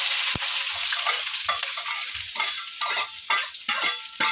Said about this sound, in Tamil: வெங்காயம் நல்லா வதங்குற வரைக்கும் பொறுமையாக நல்லா வதக்கி விடணும்.